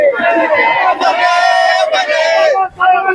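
A large protest crowd in the streets of Rohtak, Haryana, chants and shouts together in loud, sustained waves of massed voices, close and dense with brief dips between calls.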